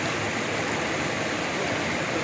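A stream swollen into a flood after days of heavy rain rushes past in a steady, dense roar of churning water, loud and continuous with no voices over it.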